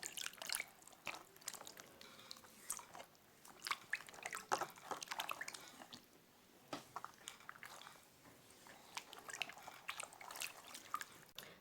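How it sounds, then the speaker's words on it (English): Water splashing and dripping as feet are rinsed off at home after a baking soda scrub, a close, irregular patter of wet squishes and trickles with no speech. "I'm gonna rinse off my feet"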